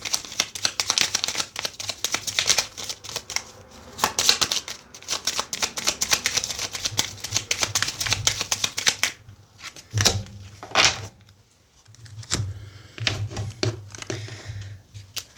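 Oracle and tarot cards shuffled by hand, a steady run of quick papery riffling and slapping for most of the stretch, then sparser taps and flicks near the end, close and fairly soft.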